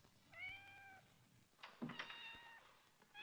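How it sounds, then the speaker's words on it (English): A cat meows several times: a long drawn-out cry followed by shorter, rising plaintive calls, close and fairly quiet, with no talk. "I hate to hear a cat cry"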